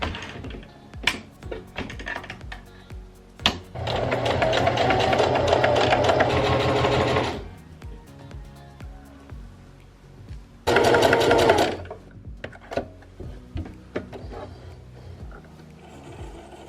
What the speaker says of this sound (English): before we take this fabric directly to the sewing machine